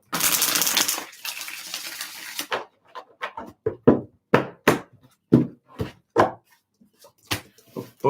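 A deck of tarot cards being shuffled by hand, a dense riffle at the start followed by a string of short, separate slaps and flicks of cards, close and fairly quiet with no talking.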